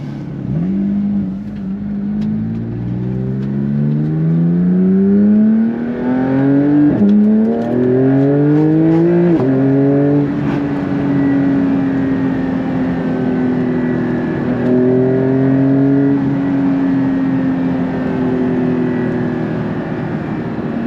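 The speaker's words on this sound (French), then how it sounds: "Profiter de la sonorité que produit cet échappement sport sur mesure." A Porsche 911 992 GT3 Clubsport with a custom sport exhaust revs hard through repeated rising sweeps as it pulls up through the gears, then settles into a loud, steady, sustained drone, close and continuous throughout.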